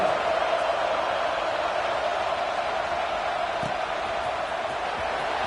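A stadium crowd in the college football video game NCAA 25 roars as a steady, dense wash of distant noise with no breaks or peaks.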